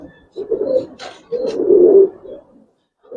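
An old-line Giribaz pigeon coos close by in a few soft, low, throaty phrases with brief pauses between them, loud and clear against a quiet background.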